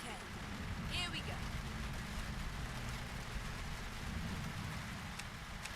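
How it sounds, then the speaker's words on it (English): Steady rain patters in Euro Truck Simulator 2 as a truck hauls a reefer trailer, a constant soft hiss over a low engine rumble, with a voice speaking faintly over it. "And it's raining"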